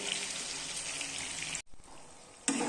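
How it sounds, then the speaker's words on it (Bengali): Chopped onion, capsicum, garlic, ginger and tomato fry in oil with a steady, close sizzling hiss that cuts out briefly midway, then returns loudly near the end. "তেলে এখন দেওয়া আছে পেঁয়াজ কুচি, ক্যাপসিকাম, রসুন, আদা কুচি আর টমেটো কুচি। এগুলোকে ভালো করে ভাজা হচ্ছে।"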